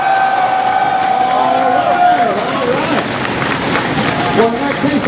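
The audience at the PAX Prime 2012 Razer panel roars and cheers loudly and continuously, a dense crowd wash that stays at full volume from start to finish.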